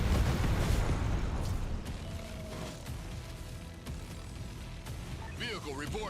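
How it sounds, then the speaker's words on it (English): Artillery shells detonate in the real-time strategy game Tempest Rising: a heavy, rumbling low boom opens the clip, then smaller distant blasts and battle noise fade into a quieter mix of game effects. "Ooh, artillery."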